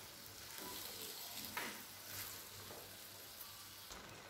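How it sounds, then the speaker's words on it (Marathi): Rice being stir-fried in a pan for soybean pulao gives a soft, steady sizzle with light stirring scrapes and a few small clinks, fairly quiet and close, with no voices. "तांदूळ टाकल्यानंतर चांगल्या पद्धतीने आता हे"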